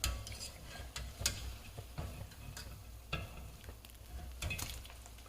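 Biscuits fry in a pan of oil for a peach cobbler, giving a steady close crackling sizzle with several sharper pops and spits, and no voices.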